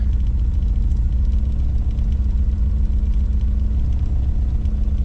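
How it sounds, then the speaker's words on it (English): A car engine idles after a tune adjustment, giving a steady low rumble with slight unevenness, close and moderately loud throughout with no voices. "It's actually idling pretty decent now."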